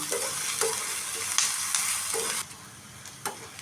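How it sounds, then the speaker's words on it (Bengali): Garlic and green chillies fry in a hot pan with a continuous, moderately loud sizzle, broken by soft periodic scrapes and taps of stirring and a quieter stretch toward the end. "রসুন আর কাঁচামরিচ সবগুলি এখন আমি সুন্দর করে ভেজে নেব"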